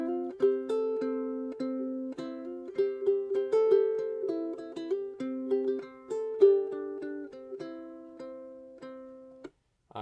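Fingerpicked ukulele plays a melodic section of a song, with a steady run of plucked notes and ringing chords, close and clear with no voice, ending in a brief pause.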